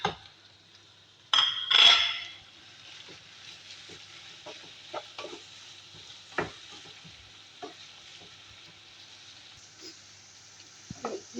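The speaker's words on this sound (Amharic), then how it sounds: "ዶሮውንም አብረን እንጠብሰዋለን።" Chicken fries with onion and garlic in a pan. A loud burst of utensil clatter comes near the start, then a faint, steady sizzle continues with scattered spoon clicks against the pan.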